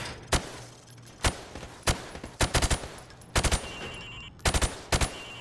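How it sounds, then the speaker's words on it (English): Rifle shots fired at targets through wood on a Call of Duty MWR training range, single cracks and quick bursts of two to four, loud and close with short pauses between. "I want you to shoot the targets through the wood"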